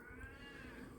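A house cat meows in a drawn-out, wavering cry close to the microphone, with a steady harmonic tone held for the full second over low room rumble.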